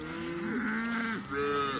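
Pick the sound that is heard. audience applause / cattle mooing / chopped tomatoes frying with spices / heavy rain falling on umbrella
cattle mooing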